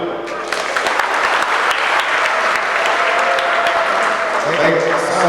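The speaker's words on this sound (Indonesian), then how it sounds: "Tepuk tangan dulu." Sustained applause from a student audience at a campus orientation talk show in Bima, steady and dense for about five seconds with a few voices audible underneath.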